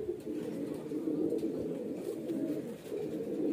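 Baby highflyer pigeons coo steadily and softly, a continuous low burbling murmur that carries on without a break for several seconds.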